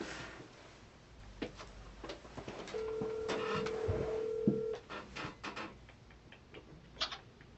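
A telephone call being placed, with a steady electronic ringback tone sounding in a quiet room, a few soft clicks and rustles around it and no talking.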